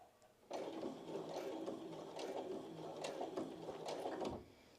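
Sewing machine stitching a seam on a cloth napkin, a close, steady rapid whirring run of stitches lasting a few seconds, starting and stopping cleanly.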